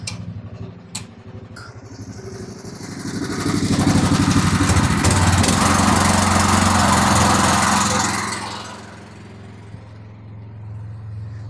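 Engine running with a steady, loud rumble and a dense rapid firing pulse, swelling to a higher, louder hold mid-clip before easing back down to a quieter idle, with no voices.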